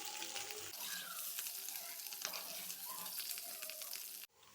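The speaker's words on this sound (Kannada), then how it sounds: "ಇದು ಫ್ರೈ ಮಾಡಬೇಕು ಆಯಿಲ್ ಜೊತೆ" Potatoes frying in oil in a pan for a mint (pudina) potato dish give a steady, close sizzle with occasional stirring scrapes, then cut off abruptly near the end.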